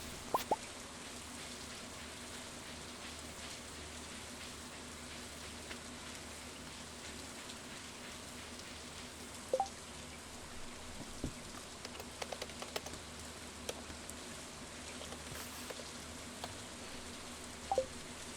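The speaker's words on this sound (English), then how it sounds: "the sound of the rain is kind of soothing" Soft, steady rain falls in a video game, a constant faint wash with scattered drips and a few small taps standing out, with no voices.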